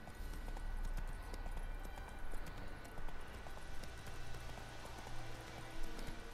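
Geralt's horse Roach gallops in The Witcher 3: Wild Hunt, with steady, quick hoofbeats drumming along a road under faint in-game ambience and no talking.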